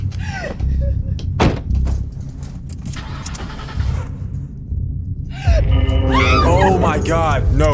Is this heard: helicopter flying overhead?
no